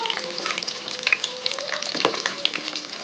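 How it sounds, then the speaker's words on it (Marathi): Hadga flower pakoras deep-fry in hot oil with a dense, continuous crackling sizzle and many small pops, close and even for the whole stretch, with no talk. "आता तेल चांगलं तापल्यावर ही हादग्याच्या फुलांची भजी आपल्याला तळून घ्यायची"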